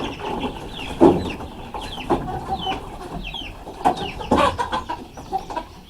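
Chickens spill out of an opened coop, clucking and squawking in scattered short bursts at close range, several birds calling over one another with faint rustling between calls.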